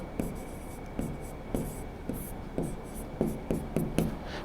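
Chalk or marker strokes on a board during a class 10 science lesson on the magnetic effect of electric current: steady rhythmic scratches of brief strokes, quiet and close, with no talk.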